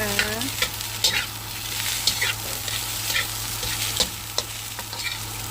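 Leftover cold rice fries with egg in a pan, a close sizzle broken by repeated scraping and clanking of a spatula stirring against the pan at an uneven rhythm.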